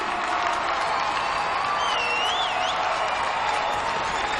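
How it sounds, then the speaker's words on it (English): Audience applauds and cheers at the Global Peace and Unity 2013 event in London, a dense steady wash of clapping with a few whoops rising above, continuous throughout. "Please give big one round of applause."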